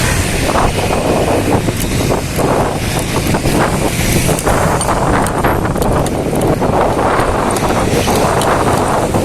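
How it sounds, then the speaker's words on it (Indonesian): Gusty wind buffets the microphone beside the fence at Cikini station, a loud, continuous rushing roar with irregular bursts throughout. "Ya angin sini masih ada ya, jadi enak lah kalau masih jalan kaki sini ya."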